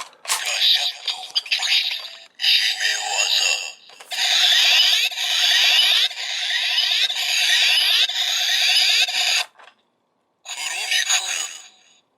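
Bright electronic effects from a Kamen Rider Ex-Aid Gashacon Key Slasher toy weapon sound in several loud bursts separated by brief pauses, with synthetic tones and chimes heard close and clear.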